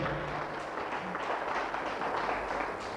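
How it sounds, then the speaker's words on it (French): An audience at a conference applauds loudly and continuously throughout, a dense wash of many hands clapping together. "Applaudissez très fort pour cette communauté."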